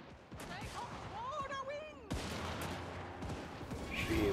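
Musket battalions firing in Total War: Warhammer 3 during a Cathayan pike-and-shot battle, a dense crackle of overlapping volleys with shouts and battle noise, growing louder near the end.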